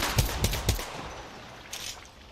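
Gunfire in the video game Apex Legends: three quick heavy shots in a row, then fainter scattered reports fading into a noisy game backdrop, with no talk.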